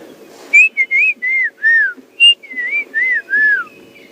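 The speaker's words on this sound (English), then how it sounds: "There's that beautiful bird called the black-crowned chagger that I mentioned earlier." A black-crowned tchagra sings a clear series of about nine slurred, descending whistled notes in an even rhythm, fairly close and loud, over a faint low rumble during a morning safari drive in the African bush.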